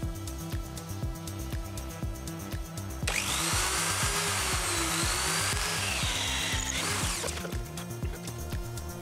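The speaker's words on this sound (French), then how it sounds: "On mesure avec précision l'espacement et la position des tiges, et puis on perce le bois." A power drill bores into wood during an attic renovation, a loud high whine from the spinning bit lasting a few seconds over a steady pulsing background hum, close up and with no talking.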